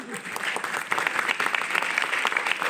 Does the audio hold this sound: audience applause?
yes